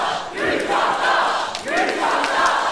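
Wrestling crowd at a pro wrestling show reacting to a clothesline, a sustained loud roar of many voices that swells twice, with shouting rising out of the din.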